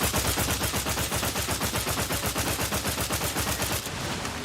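Rapid sustained automatic gunfire from a weapon in The Outer Worlds 2, a steady rhythmic stream of loud shots that cuts off near the end.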